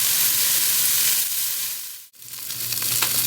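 Beef tips frying in avocado oil in a pot, a loud, steady close sizzle that dips for a moment as something is moved and then comes straight back.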